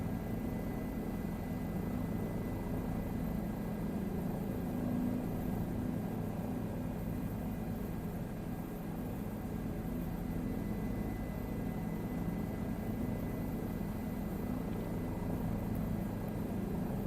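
A helicopter in flight on a round-the-world trip, heard as a steady, loud, unbroken rotor and engine drone that stays even for the whole stretch, with no talking.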